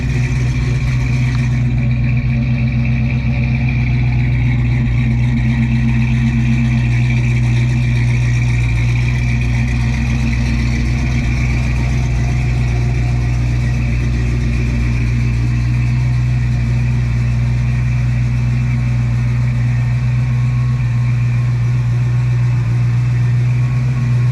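A Ford F100 truck's engine drones steadily from inside the cab while it drives, a low, constant hum with road rumble that stays loud and unchanging throughout, with no talking.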